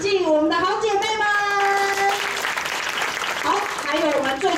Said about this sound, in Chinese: 请各位伙伴掌声鼓励鼓励